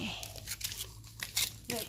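A plastic bag is opened and handled, the kind used to cover caladium seedlings after bulb splitting: a few sharp crinkling, crackling bursts in quick, uneven succession, close and fairly loud.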